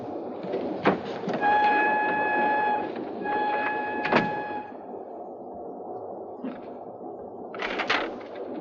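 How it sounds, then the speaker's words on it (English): A passenger train runs steadily on its rails with a continuous rumbling roll, some high squealing tones partway through and brief clanks, heard alone without talk. "didn't you send word to Mitchell that we'll be on the 7:30 train out of Paris?"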